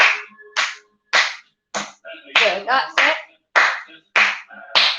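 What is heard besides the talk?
hands clapping in time with music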